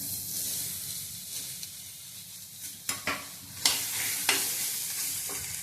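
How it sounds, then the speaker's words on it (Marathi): Onion roasting in a pan for a traditional Malvani chicken rassa gives a soft steady sizzle, broken by several sharp scraping stirs of a spatula that grow louder toward the end. "काढून आपण आता कांदा भाजून घेऊया भाजून घेऊया आपण"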